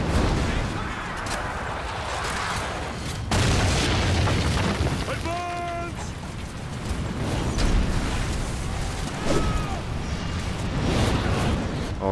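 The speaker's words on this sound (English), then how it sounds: "So them red things are where the meteorites are dropping" Meteorites crash and explode in Ryse: Son of Rome, a run of deep booms and rumbling impacts spread through the scene, with a sudden heavy blast partway through, under game music and a voice talking.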